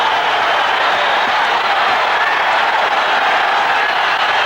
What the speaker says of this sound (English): Crowd coming to life as you see the action here.